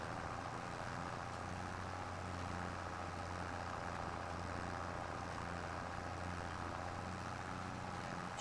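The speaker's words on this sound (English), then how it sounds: "This tractor's actually struggling." Tractor engine laboring steadily under load while pulling a canola seeder in Farming Simulator 25, a constant low droning hum that stays even and unbroken throughout, with no voices.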